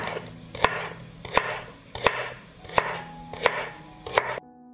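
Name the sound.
chopping green onions and celery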